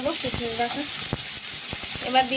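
Cut bottle gourd going into a pan of fried prawns with onion and dried chili, giving a close, crackling sizzle broken by sharp pops and stirring clatter, with a voice briefly in the background.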